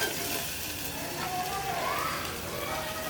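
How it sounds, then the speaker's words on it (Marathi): Spice masala of turmeric and red chilli powder being sautéed in a pan for patodyachi amti, a steady sizzling hiss running throughout with brief stirring sounds and a voice speaking over it. "मसाला झालाय परतून. मसाला परतून घ्यायचा."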